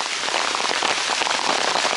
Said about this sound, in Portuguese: tá chovendo muito.